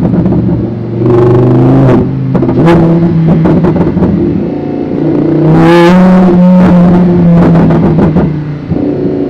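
A Lamborghini Huracan with an aftermarket exhaust revs loudly up and down close by, with sharp crackles and pops on the overrun between the engine blips.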